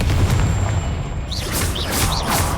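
In Hogwarts Legacy, the Confringo fire spell goes off as a loud, close booming blast with a rumbling tail, followed by short whooshing swirls of spell effects.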